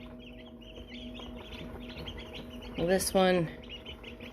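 Baby American Bresse chicks cheep in a brooder. A few high, rapid chirps come close by over a quiet background, and a voice speaks briefly.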